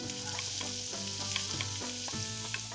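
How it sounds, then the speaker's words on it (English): Onions sizzle as they hit hot olive oil in a pan for a Greek dish, a loud, steady close-up frying hiss lasting throughout, with a faint tonal hum running underneath. "My onions are going in."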